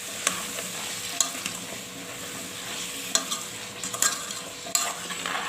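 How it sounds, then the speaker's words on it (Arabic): Tripe sautéing with onion and spices in a pot, a soft steady sizzle with scattered scraping clicks of a spoon stirring, fairly quiet and close. "انا هسيبها كده لمده 5 دقايق تتشوح بالبصل بالبهارات"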